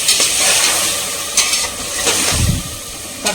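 Tomatoes sauté in a hot pan for soybean biryani, giving a steady close sizzle and hiss with a brief stirring scrape near the end, and no talking.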